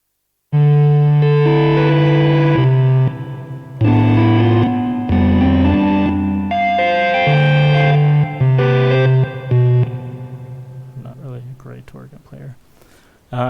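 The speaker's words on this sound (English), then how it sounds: "And our last electromechanical instrument is the Vox Continental." A Vox Continental electromechanical organ emulated in V Collection software plays a loud chordal passage with steady sustained tones, vibrato and reverb, stopping and restarting in short phrases before trailing into quieter noisy tail.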